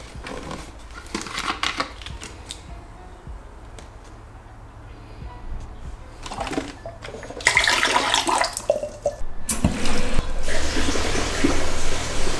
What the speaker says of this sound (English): we have our fresh water going back into the tank